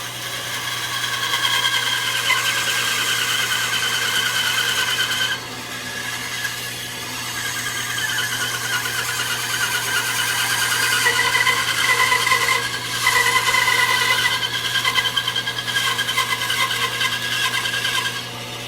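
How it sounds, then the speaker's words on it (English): A bandsaw cutting wood whirs with a steady motor hum and a loud, continuous rasping bite through the stock, dipping briefly as the cut pauses and resumes. "we're at my bandsaw, but we're going to do a little cutting on here and show you how to remove some wood in a hurry"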